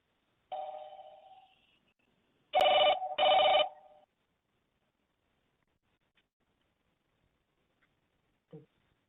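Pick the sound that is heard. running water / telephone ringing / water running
telephone ringing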